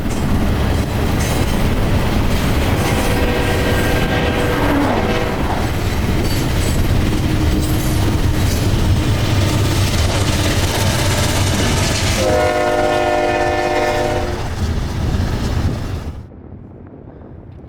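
A train rumbles past close by, with rattling wagons and horn-like tonal blasts, loud and continuous before cutting off abruptly at the end.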